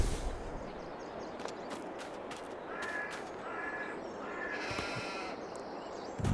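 Sheep on a farm in Farming Simulator 22 give several short bleats, mid-distance, over a steady outdoor ambience, with crow-like caws scattered through and no talk.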